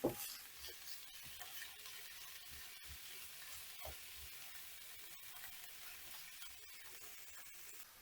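Meat, mushrooms and onion sizzle steadily in a hot frying pan while a utensil stirs them, with occasional scraping knocks against the pan.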